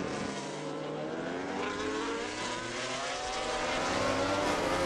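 Ducati MotoGP racing motorcycle at Laguna Seca, a high engine whine rising steadily in pitch as it accelerates, loud and continuous with no talk over it.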